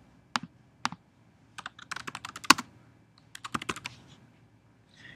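Bursts of typing on a computer keyboard, key clicks coming in irregular clusters with short pauses between, close and clear with no talking.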